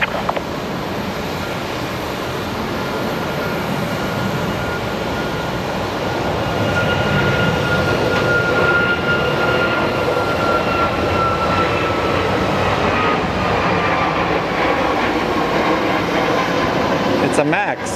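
A Boeing 737 Max airliner taxis at Phoenix Sky Harbor airport, a steady broadband engine roar with a faint whine running the whole time, swelling slightly midway, heard from a distance.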